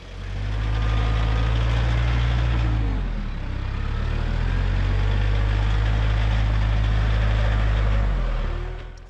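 A TYM 4820 tractor with Rimguard ballast in its rear tires, its engine running loud and close, holding a heavy low drone with a brief dip in revs before it steadies and then drops again near the end.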